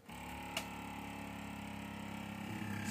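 A steady mechanical whir of a small vacuum pump running continuously on top of a blender, with a faint rhythmic pulsing and a brief click near the start.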